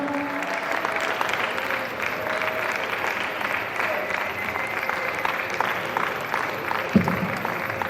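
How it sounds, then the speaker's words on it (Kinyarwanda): A church congregation claps steadily for several seconds, a dense and fairly loud patter of many hands from a crowd, with voices mixed in beneath it. "amashyi menshi cyane, amashyi yanyu"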